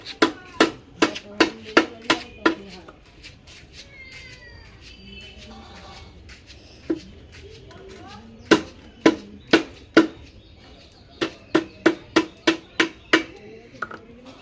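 A 2.3 kg catla fish is chopped into large pieces with a run of sharp, close knife strikes in quick bursts. A quieter stretch in the middle carries cat-like cries before the chopping resumes.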